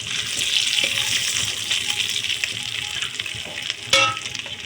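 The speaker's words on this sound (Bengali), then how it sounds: "চিংড়ি ভাজা ওই তেলের মধ্যে আর একটু তেল অ্যাড করে দেবো। দিয়ে দেবো শুকনো লঙ্কা ও তেজপাতা।" Dried red chillies and bay leaves dropped into hot oil left from frying prawns, a loud close crackling hiss with scattered pops and one sharper burst near the end.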